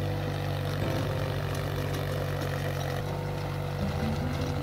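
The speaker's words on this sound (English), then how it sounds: "The tractor we are using here is 22 HP Sonalika tractor, and it has a rotavator with gear drive attached to it." A 22 HP Sonalika tractor with a gear-drive rotavator attached chugs close by in a guava orchard, its low engine note pulsing rhythmically and steadily with a faint shift in pitch partway through.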